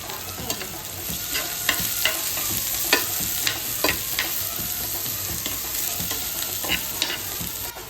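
Finely chopped onion goes into hot oil over cooked green chillies for a bombil burji. A steady, fairly quiet sizzle continues throughout, broken by repeated light clinks and scrapes of a spoon against the pan.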